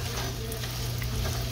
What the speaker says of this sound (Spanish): Aquí estoy friendo papa.